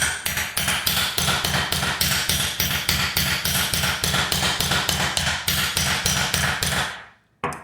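Steady, rapid hammer blows driving a coconut opener into a Thai coconut, close and loud, in an even rhythm of about three per second before stopping abruptly.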